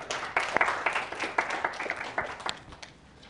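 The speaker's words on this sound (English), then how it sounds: "let's give him a round of applause" Lecture-hall audience at a systems biology class claps for a student, a scattered round of hand claps with distinct individual strikes, moderately near, tapering off toward the end.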